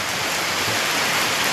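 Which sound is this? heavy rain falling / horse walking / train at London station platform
heavy rain falling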